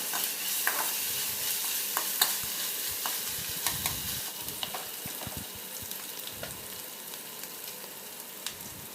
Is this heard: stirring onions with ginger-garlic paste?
yes